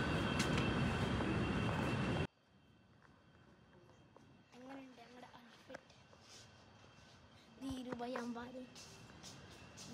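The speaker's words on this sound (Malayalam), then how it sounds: "ട്രെയിൻ എത്തി ഗൈസ്." Riyadh Metro train pulling into a station: a loud, steady rushing roar fills the first two seconds, then drops away to quieter platform ambience with faint rumbles and people talking nearby.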